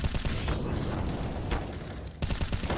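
Rapid gunfire in a Counter-Strike esports match, dense crackling bursts of shots filling the whole clip, loud and close with a brief lull before another volley at the end.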